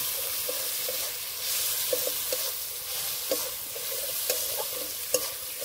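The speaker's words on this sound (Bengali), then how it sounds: "আদা ও রসুন দিয়ে কিছুক্ষণ নেড়ে নেব।" Ginger and garlic paste fries with a loud, constant sizzle in a pan, and occasional stirring clinks and scrapes sound close to the listener.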